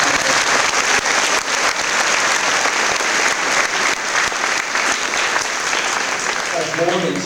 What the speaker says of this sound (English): a big round of applause for the band and the musicians for the great job.